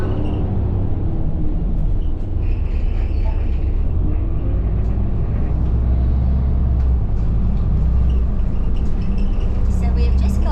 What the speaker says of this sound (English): we've just gotten on a bus to head into Yeppoon Central Shopping Centre